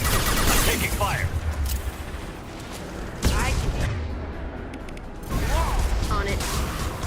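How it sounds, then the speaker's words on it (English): Rapid weapon fire rattles through a Mass Effect 2 battle in loud repeated bursts, with short breaks between volleys, while voices speak over the shooting. "Taking fire."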